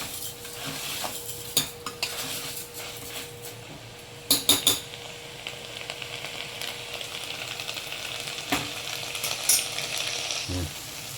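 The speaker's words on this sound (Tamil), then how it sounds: "இது ஒரு 2 மினிட்ஸ் இந்த வெங்காயம் தக்காளியோடு சேர்த்து வதங்கட்டும்." Quiet sizzle of onion and tomato sautéing in a pan, with occasional sharp clinks of a metal spoon against the pot and brief stirring scrapes.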